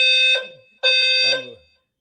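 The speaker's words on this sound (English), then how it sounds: "we're going to let Amir handle the fire alarm" Fire alarm sounding in two long blasts, each holding a steady, piercing tone for under a second with a short gap between, loud and close.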